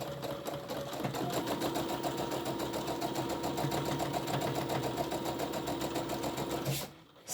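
A sewing machine runs steadily, stitching a seam across a fabric bag with a close, rapid, rhythmic whir that stops abruptly just before the end.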